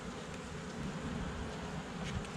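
A continuous, even drone of honey bees buzzing inside a sparsely populated hive, close and unbroken, with no voices.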